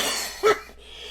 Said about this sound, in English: Don't cough, you're gonna make me cough.